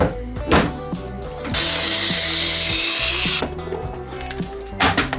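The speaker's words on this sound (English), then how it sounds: "I'm gonna drill 1 extra hole for the wires" A power drill whirs loudly for about two seconds as it bores a wire hole through a dash mount, with quieter clicks and handling noises before and after.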